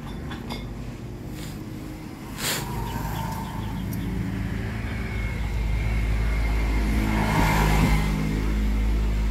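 A car engine idles and rises in a few revs, close and fairly loud, with no talking over it.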